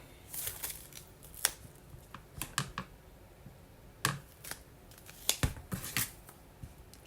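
Scissors snip through fabric tape in a string of sharp, close cuts, some quick pairs and single snips spread irregularly over a quiet background.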